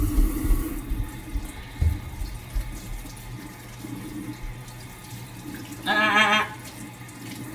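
Water from a running sink tap splashes while hands are washed during a barbecue of baby back ribs, the flow steady and moderate with a brief louder gush near the end, some handling noise and no talk.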